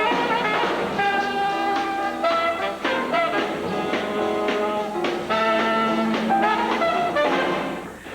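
A Chicago jazz group plays a number at a 1986 high school concert, a steady, full ensemble of horns and rhythm section with bright sustained chords and moving melodic lines throughout.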